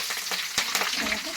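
Curry leaves crackling in hot oil for Andhra-style Gobi Manchurian: dense, bright sizzling with sharp pops and a quick stir, close up and with no talking.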